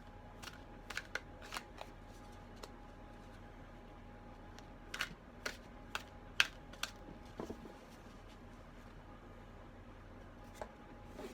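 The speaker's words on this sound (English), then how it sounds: "while I'm shuffling" Playing cards being shuffled by hand indoors, a quiet series of crisp riffling bursts and soft taps scattered at irregular intervals over a low room hum.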